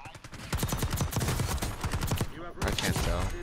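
Gunfire in the Call of Duty video game comes as rapid, dense bursts of sharp automatic shots that run almost continuously, with a brief pause before another volley, loud and close.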